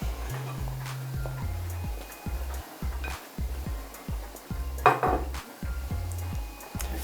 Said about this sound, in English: we're going to clear our table